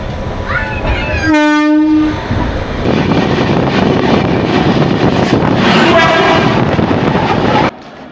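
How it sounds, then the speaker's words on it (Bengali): Doon Express passenger train standing at Varanasi station, a loud horn blast near the start followed by heavy continuous rumble and hiss of the train and platform, with a second fainter horn later before the noise drops. "বারাণসী স্টেশনে এখন দাঁড়িয়ে আছে ট্রেন, এখানে 10 মিনিট হল্ট করবে।"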